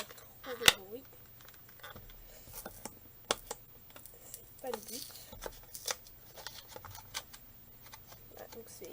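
Scrapbooking craft tools being unpacked from their packaging, with scattered crinkles, snips and sharp clicks at close range, mostly under someone speaking French.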